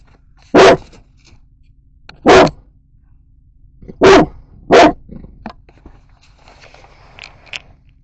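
A dog barks four times in loud, sharp bursts spread over several seconds, close by, at a pet store, followed by faint rustling and small clicks.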